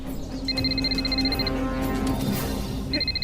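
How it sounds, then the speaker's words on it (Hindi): A telephone rings in bursts, an electronic trill repeating for about a second, pausing, then starting again, loud and close over a low hum of room noise. "मंजरी का फोन?"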